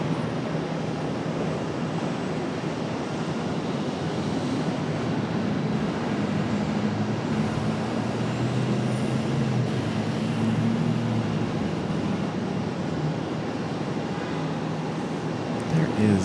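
A Contour Airlines jet departs at Charlotte airport, its engine roar a steady, moderately distant rumble that swells slightly midway, while a voice talks over it.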